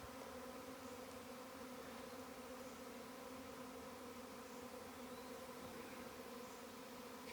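Bees swarm, stirred up, around the base of a stump beside the Appalachian Trail, making a continuous layered buzz of many insects. The sound is soft but steady throughout, with no voices.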